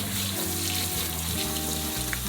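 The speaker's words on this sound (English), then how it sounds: "Now that we've washed our peppers" Bell peppers being washed under a running kitchen tap, a steady, close, full rush of water splashing without pause.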